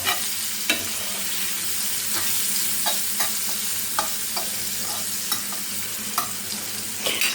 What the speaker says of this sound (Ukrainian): І зараз цибульку обсмажу.